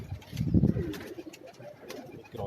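Pigeons on a Karachi rooftop give soft, low cooing calls close by, one fuller coo swelling early and quieter murmurs following, with light background noise and no talk.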